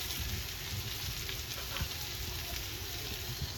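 Tomato and slit green chillies sizzle in a frying pan with a fairly quiet, continuous hiss and crackle throughout, dotted with small pops and faint stirring. No one speaks.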